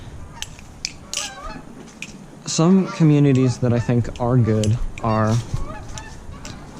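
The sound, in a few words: geese honking while flying overhead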